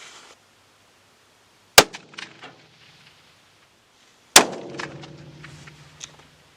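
Two sharp, loud reports from a 28 Nosler rifle fired at a long-range shooting range, spaced a few seconds apart, each followed by a rolling echo that fades into quiet.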